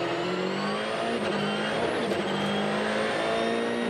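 Sébastien Ogier's rally car at the Rallye de France Alsace 2013 stage finish, a loud continuous high-revving engine roar with shifting pitch and no pauses.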